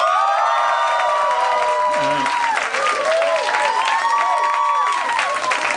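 A live comedy-show audience cheering and whooping loudly, a dense sustained crowd roar with many overlapping shouts and some clapping, lasting throughout.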